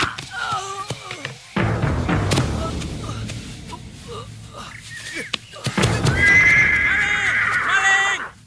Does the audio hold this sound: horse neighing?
yes